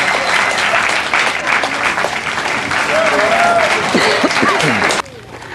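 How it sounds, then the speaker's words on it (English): An audience at an alligator show gives a full round of applause, a dense and steady clapping wash that runs loud for about five seconds and then cuts off abruptly, with some crowd voices underneath. "how about a big round of applause for the gator?"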